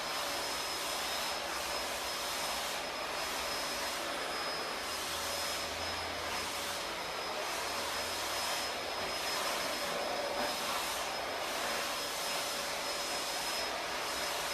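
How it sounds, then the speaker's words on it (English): A vacuum cleaner drones in another room, a steady broadband whoosh with a faint high whine that rises and falls slightly as it moves, running alone throughout at moderate, slightly muffled volume. "My wife decided she wanted to vacuum."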